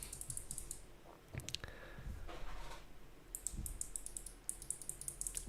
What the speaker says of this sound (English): So I got the clickiest switches I could find. These are Kale Box Navies.